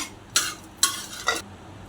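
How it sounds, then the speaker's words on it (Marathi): Byadgi chillies sautéed in a pan, with three short bursts of scraping, sizzling stirring, close and fairly quiet. "4 बेडग्या मिरच्या घातल्या, त्या आपण परतून घेऊ."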